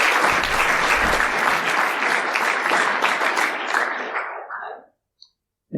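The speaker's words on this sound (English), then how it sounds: "Please give him a big round of applause" Audience applause after a talk on employee awareness training, a dense burst of clapping that stays loud and steady for several seconds, then fades out abruptly before a brief pause.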